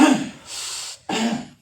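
Two forceful coughs from a person in a CPR and first aid training session, a sharp burst followed by a shorter pause and a second hard, breathy cough, close and clear with no talking.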